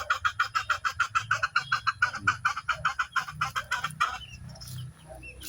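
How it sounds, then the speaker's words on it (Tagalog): Broodcock rooster and hens clucking in a fast, steady run of loud close calls, the rhythmic clucks fading after about four seconds into softer scattered farmyard noise. "Yung broodcock na yan."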